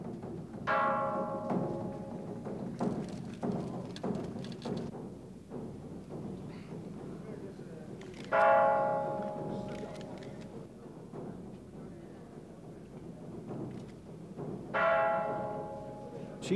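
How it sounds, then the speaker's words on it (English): Three deep temple bell strikes ring out at intervals, each hum lingering and fading, over a low murmur of background noise and distant voices, at a ceremony in China. "They bang the temple bells and drums for the Queen."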